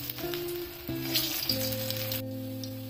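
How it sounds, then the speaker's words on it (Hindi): Cabbage koftas dropped one by one into hot oil in a kadhai, giving a steady close sizzle with a few soft plops as each piece goes in. "अब हम डाल देते हैं एक एक करके कोफ्ते।"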